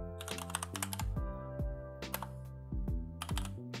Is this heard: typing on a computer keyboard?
yes